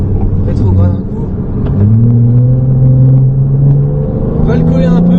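A Ferrari 296 GTB drops a gear on the Trappes race circuit during a driving course, its engine note sliding down in pitch with a low rumbling drone, heard from inside the car under an instructor's close French speech.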